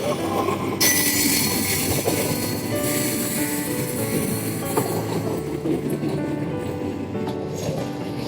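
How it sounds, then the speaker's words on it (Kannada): A train pulls into a railway station, a loud steady rumble of wheels and carriages with faint squeals and clattering rising through it. "ಟ್ರೈನ್ ಬಂತು."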